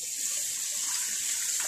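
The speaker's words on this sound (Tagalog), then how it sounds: "Kailangan natin hugasan itong salmon kasi ang malansa." Tap water running steadily into a kitchen sink while raw salmon pieces are washed, a continuous close hiss and splash with no talking.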